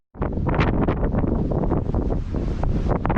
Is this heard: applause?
no